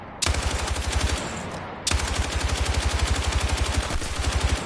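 L110 light machine gun firing in the Battlefield 6 video game: two long, loud, rapid automatic bursts, the first cut off briefly before the second resumes at the same steady rate.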